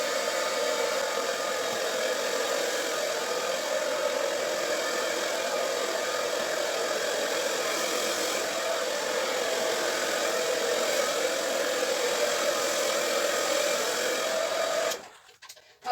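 Hair dryer blowing silver acrylic paint across a large Dutch pour canvas, a steady loud close whoosh that runs unbroken and then cuts off near the end.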